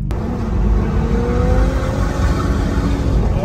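A car drifting and revving on a street in Florida, either a BMW M4 or a Dodge Charger Hellcat, with a loud, sustained engine roar and rising pitch as it pushes through the slide, close by.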